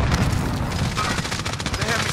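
Rapid gunfire and a booming grenade explosion in the battle-royale shooter Warzone form a dense, loud, continuous barrage across the whole stretch, with voices mixed in.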